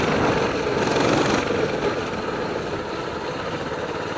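A Coleman mini bike engine revs hard while racing on a small track, a buzzy high-pitched whine that holds steady and slightly eases toward the end, heard alone without talk.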